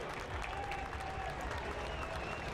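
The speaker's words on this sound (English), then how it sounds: "Crowd stomping their feet, ready to explode with a game-tying goal" Soccer stadium crowd in Sacramento stomping their feet and roaring during a match against Birmingham Legion, a dense, continuous rumble of applause and noise with a commentator talking over it.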